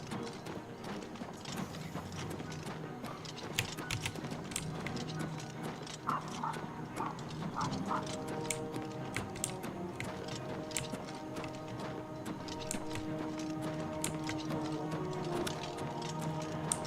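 Horse hooves clip-clopping in the video game Oblivion: a rapid, continuous stream of galloping hoofbeats at moderate volume, with faint game ambience underneath and no speech.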